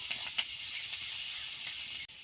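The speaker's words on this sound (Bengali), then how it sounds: "এবার ক্যাপসিকামটাকে ভালো করে ভেজে নেব।" Chopped capsicum frying in a pan with a little salt while making restaurant-style paneer chilli, giving a steady, even hiss of sizzling oil that runs the whole time, with a few faint pops and a brief dip near the end.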